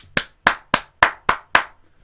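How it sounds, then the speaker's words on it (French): A presenter claps his hands six times in a steady, slow rhythm, each clap sharp, close and loud, with silence between them and no talk. "Ouais, on va même applaudir."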